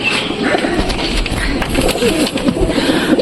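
Several pigeons coo close by in soft, overlapping throaty calls, a steady murmuring chorus over a low background hum.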